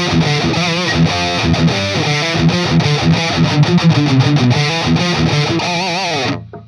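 Heavily distorted electric guitar with EMG 81-85 active pickups, close and loud, a dense saturated riff of chugging palm-muted chords and melodic bends that cuts off abruptly at the end.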